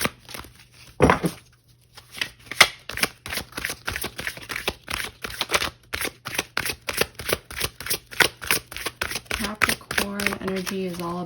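Tarot cards are shuffled up close in a long run of quick, crisp riffling flutters, with a brief voice at the end.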